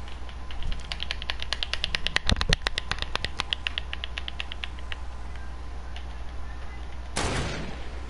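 Rapid bursts of video game gunfire, a fast run of sharp clicking shots clustered mid-clip, loud and close over a steady game hum, followed by a single whooshing burst near the end.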